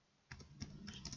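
Brief burst of typing on a computer keyboard while writing a Python program, a few quiet, close keystrokes following a short silence, with no talking.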